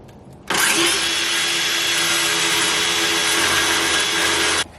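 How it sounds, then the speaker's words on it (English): A power sander sanding the top layer of wood starts abruptly and runs at a steady, loud whir for about four seconds, then cuts off sharply. "we are sanding down just this top layer because we're going to be painting these white"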